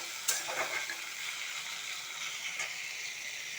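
Chopped tomato and capsicum frying in a pan with garam masala, dried chilli and bay leaf, a soft, steady sizzle with a couple of brief stirring scrapes near the start, fairly quiet and close.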